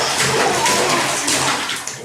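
A baby splashes in a bath without a bath seat, a loud, close, continuous run of sloshing and splashing water for the whole moment.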